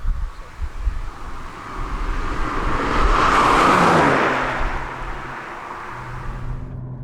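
A BMW M235i engine drones steadily with rushing wind noise, swelling louder in the middle as the car speeds up, then easing off.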